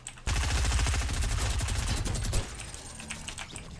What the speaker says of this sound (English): Who was shooting a minigun?